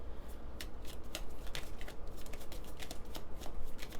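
Tarot cards are shuffled by hand on a slightly shaky table, giving a soft, continuous riffling patter of quick papery flicks at close range, with no talking.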